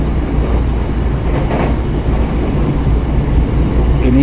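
A KRL commuter train, a Tokyo Metro 6020 set on the Cikarang line, heard from on board as it departs and runs, with a loud, steady rumble and rolling noise throughout and faint rail clatter.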